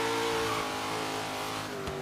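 A supercharged Chevy Nova drag car in Forza Horizon 3 holds a loud, steady engine drone with layered harmonics, easing slightly near the end and running alone without talk.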